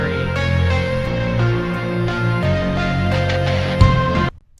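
A dense, eerie drum and bass passage builds on a heavy reese bass and distorted guitar, with steady loud low-end and recurring drum hits throughout, then cuts off abruptly near the end.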